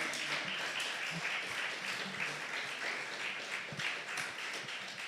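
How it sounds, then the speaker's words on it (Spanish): Congregation applauding at a church service, a sustained, even wash of many hands clapping with a few louder individual claps standing out, continuous throughout with no voices over it. "Vamos a dar fuerte ese aplauso a nuestro Dios."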